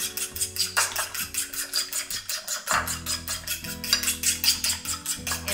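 A spoon working honey mustard sauce around a bowl makes a steady series of clinking scrapes, close and regular, with faint music underneath.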